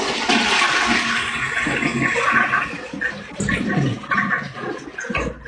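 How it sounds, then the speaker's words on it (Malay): A toilet flushing close by, a loud rushing gush of water that swirls and drains over several seconds, with gurgling toward the end and no talk over it. "Oh Ilyasku, dengarkanlah tandas yang akan ku flash"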